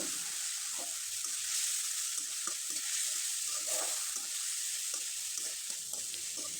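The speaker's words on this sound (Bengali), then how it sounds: "মশলাটাকে হালকাভাবে একটু এভাবে নেড়ে চেড়ে নিলাম" Spiced mix of leftover roti with salt and turmeric sizzling steadily in a pan, a constant loud hiss with soft scrapes of stirring throughout.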